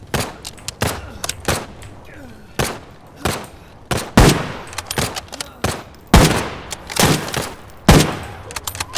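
Rapid bursts of gunfire from an elevated position in Arena Breakout Infinite, sharp loud shots in irregular clusters over nine seconds, some in quick volleys and others single, with a faint voice underneath.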